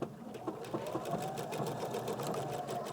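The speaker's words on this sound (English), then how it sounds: "and I'm going to do my back stitch." A sewing machine does a back stitch with a steady, fast, close mechanical whir that runs for the whole clip. No speech is heard over it.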